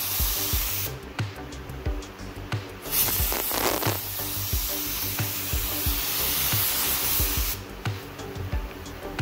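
Spray gun applying paint to a car in a workshop, a steady close hiss of spraying that broadens in bursts, with brief pauses and low background clatter.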